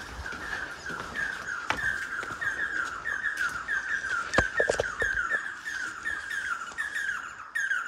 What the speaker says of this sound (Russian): Там гнездо у птиц. Слышите, да?